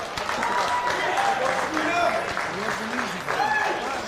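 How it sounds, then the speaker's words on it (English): Applause from a wrestling audience after an AWC3 match between Sabrina Folz and Mady Gagnier, a steady wash of clapping filling the room with voices mixed in throughout. "Let's have a round of applause, please."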